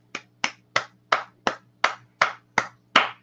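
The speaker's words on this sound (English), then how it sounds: "That is totally worth a clap." Nine sharp, evenly spaced claps from a single person, crisp and close with no voices over them, steady in rhythm like slow deliberate applause.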